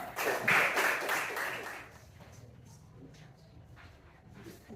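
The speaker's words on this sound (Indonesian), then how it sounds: "Kita berikan tepuk tangan untuk kelompok Tetun" Brief applause from a classroom audience at a Catholic college group presentation, a short burst of clapping that is loud for about two seconds, then fades into quiet room sound with faint voices.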